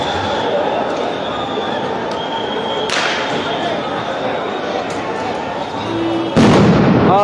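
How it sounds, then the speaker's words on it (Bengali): Police sound grenades going off at a street protest at Paltan intersection: two sharp, loud blasts ring out a few seconds apart, the second close and heavy, over a constant roar of crowd noise and voices. "একের পর এক কিন্তু সাউন্ড গ্রেনেডের শব্দ"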